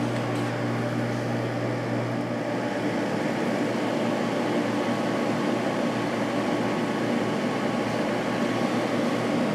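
LG 8,000 BTU and GE 8,100 BTU window air conditioners running on high fan, a steady whooshing airflow with a low constant hum, even and continuous.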